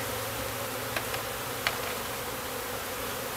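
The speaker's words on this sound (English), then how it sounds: "Seems like a lot of bees for one hive" Honey bees swarm thickly around a hive, their dense continuous buzz filling the air, with a few brief clicks and taps breaking through near the hive.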